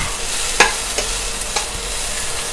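Chili peppers stir-fry in a pan for spicy bamboo shoots with pork belly, a steady sizzle broken by a few sharp spatula knocks and scrapes.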